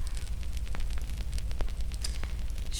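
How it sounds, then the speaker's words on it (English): A spreading fire crackles and roars as a story sound effect, with a dense rushing hiss and scattered sharp pops. It stays steady and moderately loud with no voices. "The fire spread fast."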